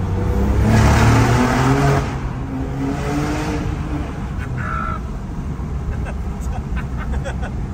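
A 600-horsepower rear-wheel-drive car with a roof tent revs hard and accelerates away, loud at first and then easing off, with a voice briefly talking over it.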